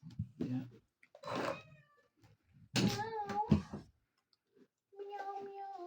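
A cat meows several times with clear, rising and falling tonal cries, close and fairly loud, separated by short pauses during a casual card game of tong-its.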